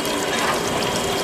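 Shred press machine crushing waste supermarket oranges, a close, steady mechanical grinding and ratcheting churn with a wet, watery layer, brief and continuous with no talking.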